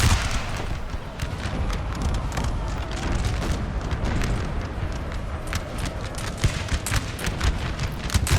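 French infantry muskets volley in Napoleon: Total War, a steady crackle of overlapping gunshots and dull booms, loud and unbroken throughout, with sharper individual reports poking out near the end.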